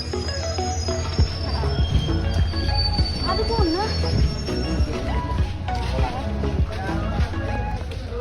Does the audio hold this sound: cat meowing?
no